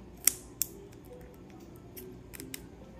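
Kitchen scissors snip the small fins off raw lobster tails with two sharp, crisp cuts close by, followed by fainter clicks and handling noises over a low room hum.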